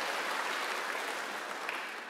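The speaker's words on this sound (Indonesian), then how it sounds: "Tepuk tangan buat TY saudaraku" A congregation applauds for TY during a Christian worship service: a steady, dense wash of clapping that holds at an even level for about two seconds and fades slightly at the end.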